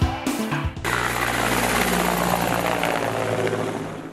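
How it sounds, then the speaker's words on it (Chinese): A Russian army aviation Mi-28 attack helicopter flies toward the front line, its rotor and engine giving a loud, continuous, broadband roar that holds steady and fades slightly at the end. "俄罗斯陆航米二八直升机飞往库斯克前线"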